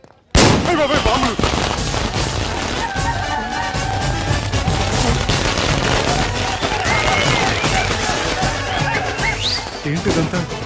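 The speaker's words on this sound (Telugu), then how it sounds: "అయ్ బాబోయ్, బాంబులు!" Bombs going off in a Telugu comedy film scene, a dense loud stretch of blasts and crackling bursts lasting about ten seconds, with voices shouting over the noise.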